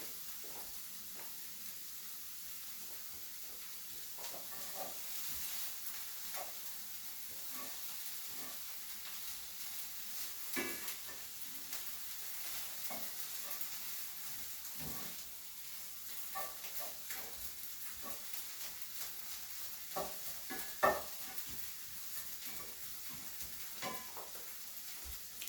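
Onions sizzle and fry steadily in a chicken tagine, with a soft continuous hiss and occasional scraping clicks as they are stirred, close by and without talk.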